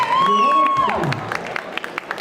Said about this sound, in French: Applaudissements encore s'il vous plaît pour lui